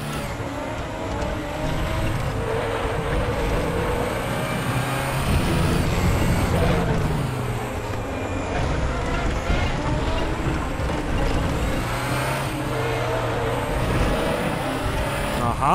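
An Audi R18 TDI race car in the R3E racing game on the Nürburgring GP drones continuously, its engine pitch stepping and shifting through gear changes, with someone talking over the steady roar.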